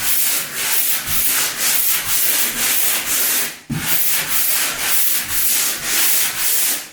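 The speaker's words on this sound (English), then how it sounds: "Then we take our 120 grit sandpaper and just a very light sand." Sandpaper of 120 grit lightly sands a patched spot while flaking, bubbled paint on a bathroom ceiling is repaired: a steady run of rhythmic, close rubbing strokes with a brief break midway.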